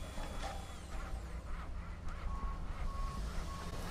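On a university campus construction site that was once a parking lot, a loud, steady rumble of machinery runs throughout, with faint intermittent electronic beeps under it and no talking.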